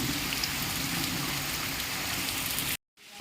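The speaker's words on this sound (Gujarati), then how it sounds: "એકદમ વરસાદ ચાલુ છે" Dense, loud rain pours down steadily, a continuous roar of drops that cuts off abruptly near the end.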